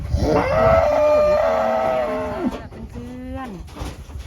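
A pregnant cow close to calving moos loudly and nearby in two long, drawn-out calls, the first sustained and wavering, the second shorter, with no speech.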